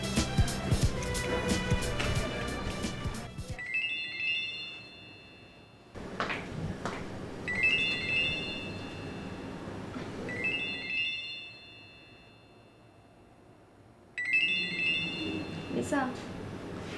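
A telephone rings in repeated short electronic bursts while a call is placed, with quieter gaps between the rings and some background voices and noise.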